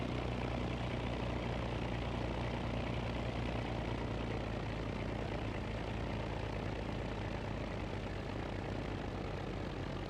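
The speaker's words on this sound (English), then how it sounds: "Hear that engine?" A steady, droning video game aircraft engine hums continuously at an even pitch, constant and unbroken, with no voices.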